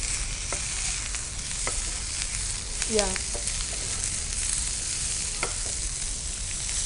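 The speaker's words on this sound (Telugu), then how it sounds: "చక్కగా ఫ్రై చేసుకొని ఇప్పుడు వీటిని కూడా ఫ్రై చేసుకోవాలి." Eggplant pieces frying in a pan for vankaya kobbari fry, a steady broadband sizzle running throughout with a few sharp spatters and pops, and one brief spoken syllable near the start.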